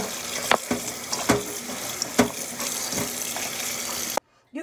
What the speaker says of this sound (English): We've got all 3 cans of our beans in the colander, and we're just going to rinse